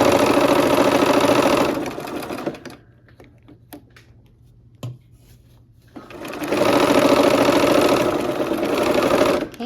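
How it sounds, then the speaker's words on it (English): A sewing machine stitches a long quilt seam with pins in the fabric, running loud and steady for about two seconds, pausing through near silence with faint clicks, then running steadily again to the end. "All right, let's go ahead and sew that seam."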